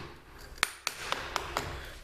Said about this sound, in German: Mach mir also mit einem Hammer und einem kleineren Meißel einen Kabelkanal.